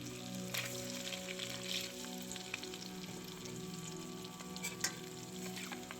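Spiced eggs for egg biryani fry in a pan and are carefully turned over, giving a soft, continuous sizzle with faint crackles and light scraping, quiet and steady with no voices.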